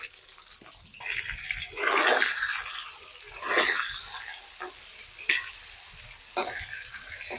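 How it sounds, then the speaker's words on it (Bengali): Potatoes seasoned with salt and turmeric fry in oil over a medium gas flame for a chicken curry, giving a steady sizzle that swells in waves as they are stirred. "গ্যাসের ফ্লেমটা মিডিয়ামে রেখে আলুগুলোকে লাল লাল করে ভেজে নেব।"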